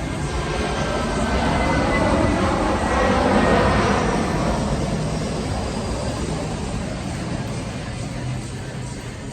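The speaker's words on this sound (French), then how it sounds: "Petit avion qui est passé." A small airplane passes overhead outdoors, its engine drone swelling to a peak midway and then slowly fading, loud and continuous, with no talking.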